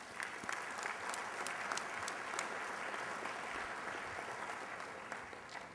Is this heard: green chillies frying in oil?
no